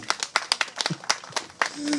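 Scattered, uneven hand claps from a small crowd at a pumba folk street performance during a cultural festival in Imsil, Korea: a run of sharp, separate claps over two seconds, fairly close, with no steady roar.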